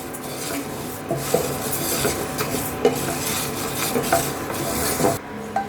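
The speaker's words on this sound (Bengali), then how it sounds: "খুব বেশি ভাজবো না, লাল লাল করে মিডিয়াম ভাজবো।" Lentils dry-fried in a pan for an ash gourd dish are stirred with a spatula, giving close, continuous scraping and rubbing with occasional sharper scrapes against the pan.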